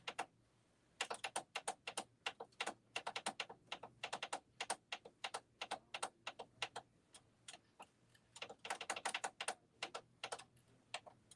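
Keyboard keys clatter in quick irregular bursts as a password is typed, crisp and close, with short pauses between runs of keystrokes and no talking.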